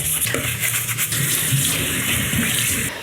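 Tap water runs steadily into a kitchen sink during cleanup after washing chicken, a continuous close hiss and splash with small clinks, no talking.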